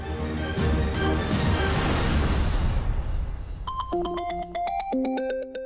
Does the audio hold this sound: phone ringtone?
yes